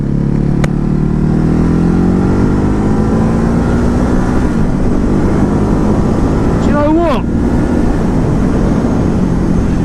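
A 2019 Ducati Hypermotard 950 engine on a test ride drones loudly and steadily, its pitch climbing gradually with wind rush throughout, while someone briefly speaks over it.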